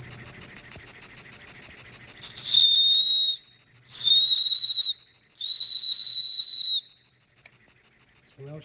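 A small IND-X model steam engine chuffs in quick, regular puffs, then its whistle sounds three times in sustained shrill blasts of about a second each, separated by short pauses, before the chuffing resumes.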